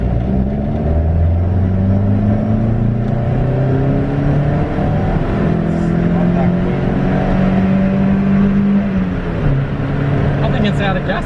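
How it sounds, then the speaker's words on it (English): A Toyota Starlet with a 75-shot of nitrous is floored in second gear from low revs. The engine drone climbs steadily in pitch, loud and close, then sags near the end. "Right now we're in second gear, doing like 1000 RPM and we'll gas it."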